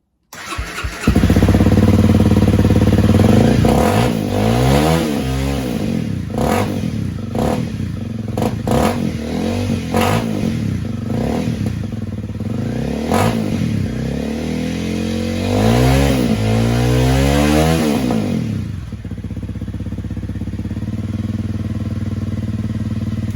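A Honda CRF250L Rally dirt bike engine with a modified airbox snorkel starts and revs repeatedly, loud exhaust close, rising and falling in bursts before cutting off near the end.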